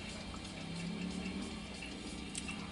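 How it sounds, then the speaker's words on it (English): Non-alcoholic Leffe beer poured from a bottle into a glass, a continuous liquid splash and gurgle with a fizzing foam hiss, close and moderately quiet. "I just try to pour the whole beer out in the glass."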